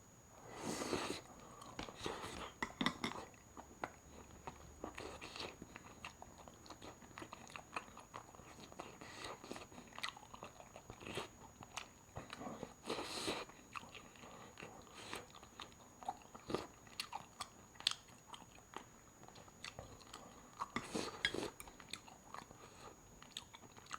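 Pork dipped in soybean paste being chewed close to the mic, repeated soft wet bites and crunchy chewing in irregular bursts over a quiet background, fairly faint throughout.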